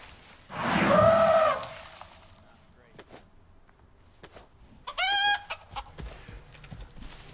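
Chicken squawks in the video game Icarus, a loud clucking burst near the start and a shorter sharp squawk later, with scattered clicks and movement noises between.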